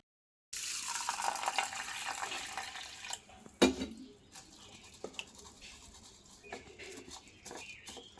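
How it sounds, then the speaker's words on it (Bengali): Fifty grams of basmati rice being rinsed in a bowl of water for mango phirni, a soft sloshing and trickling that starts abruptly, with a louder splash midway and a few faint bird calls behind. "50 গ্রাম চালটা ভালো করে ধুয়ে নেব"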